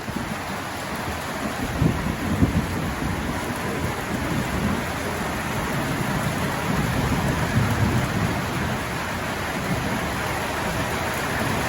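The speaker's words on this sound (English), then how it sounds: "Thunderstorm just rolled in." A thunderstorm that has just rolled in, with heavy rain pouring steadily on an outdoor work area and low rumbles of thunder rolling through. The roar is dense and continuous, close and fairly loud, and no one speaks.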